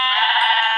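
A Minecraft sheep gives one short, loud, nasal bleat with a wavering tone, heard alone without talk.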